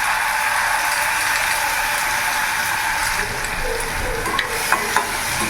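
Ginger, garlic and green and red chili paste sizzles with onions in a hot pan for a steady, continuous fry, with occasional scraping and stirring clicks close by.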